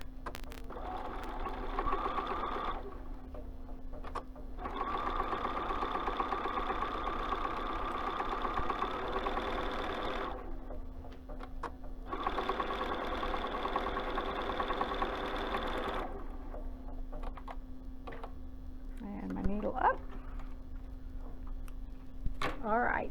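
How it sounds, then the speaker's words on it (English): A sewing machine stitches pillow seams at a quarter-inch seam allowance in steady humming runs of several seconds, pausing between bursts, close and continuous under a constant background hum. "let me sew these real quick"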